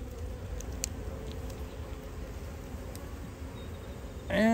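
Honeybees on a nectar-heavy hive frame during a routine inspection give a faint, steady buzzing hum, with a sharper, louder buzz bursting in close by near the end.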